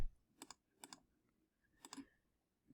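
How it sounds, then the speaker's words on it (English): Soft button presses on a calculator, heard as a few quick pairs of light clicks, close but quiet, with silence between them. "Let's go ahead and you type that in."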